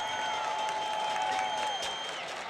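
Crowd at a high school football game between Upper Darby and Garnet Valley cheers and claps steadily, a broad wash of applause with a whistle-like tone partway through, fairly distant and sustained.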